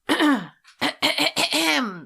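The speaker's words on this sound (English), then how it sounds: "I have to clear my throat a lot" Several rough throat-clearing rasps in quick succession, close and fairly loud, with brief pauses between them.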